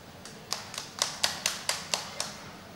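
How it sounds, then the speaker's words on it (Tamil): Scattered applause from a church congregation during a sermon, heard as about nine sharp, separate claps at a steady, slightly uneven pace, fairly close and moderately loud over a quiet room. "கைத்தட்டி ஒத்துக்குவீங்கன்னு எனக்கு தெரியாது"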